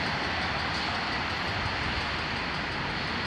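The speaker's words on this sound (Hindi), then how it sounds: "but the metro has started" A Dubai Metro train running at a station, a steady, loud broadband rumble and hiss of the moving train with no voices.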